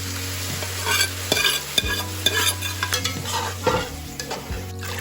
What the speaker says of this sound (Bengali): এবার একটু হলুদ গুঁড়ো অ্যাড করে দিলাম সেদ্ধ করে রাখা ডাল দিয়ে দিলাম